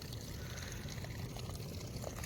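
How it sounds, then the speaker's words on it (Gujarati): Diesel pours into a container beside a pond for a machine, a quiet, continuous liquid glugging and trickle with steady low rumble throughout. "ડીઝલ નાખવાની પ્રક્રિયા શરૂ છે"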